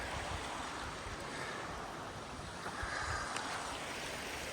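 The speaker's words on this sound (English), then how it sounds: "Got a beautiful river over here." A river flowing along a hiking trail, heard as a steady, dense wash of water noise, close and even throughout with no voices.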